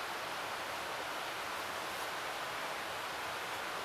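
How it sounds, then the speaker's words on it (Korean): A mountain valley stream flows beside a rainy campsite cabin, heard as a faint, unbroken hiss with no voices. "저는 지금 계곡 물소리가 계속 들리는데 거기에 잘 담기고 있나 모르겠어요"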